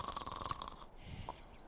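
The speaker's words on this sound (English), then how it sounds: "He's just snoring away." A sleeping townsperson in the game Lord of the Rings Online snores in a slow, rough, rumbling breath, close and clear with nothing else over it.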